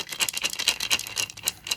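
A Native American ceremonial gourd rattle filled with seeds is shaken to imitate rain, giving a quick, uneven run of close, crisp seed patters and rustles, about a dozen soft bursts in under two seconds.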